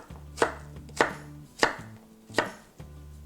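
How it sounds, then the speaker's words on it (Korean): A knife cuts zucchini into thick pieces on a cutting board: five crisp chops land about half a second apart over a low background hum, with no voices. "호박도 좀 도톰하게 썰어줬으면 좋겠어요."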